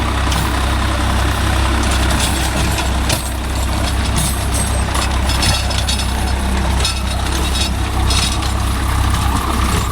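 Swaraj 855 FE tractor working a rotavator in a coconut grove, its engine a steady loud diesel drone with a low rumble and clattering mechanical noise throughout, close by.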